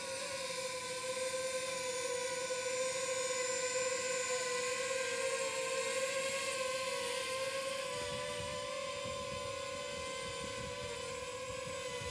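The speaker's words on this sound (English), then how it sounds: "I'm going to pull the trigger and put my faith that that's where the drone is going to go" A DJI drone flies under the DJI Motion Controller, giving a constant droning buzz of whirring propellers. The whine holds steady for the whole stretch, with slight shifts in pitch.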